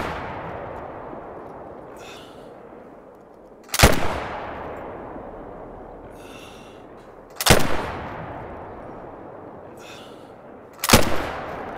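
Three loud, sharp Frost .257 rifle shots in theHunter: Call of the Wild, evenly spaced about three and a half seconds apart, each cracking hard then rolling away in a long fading echo.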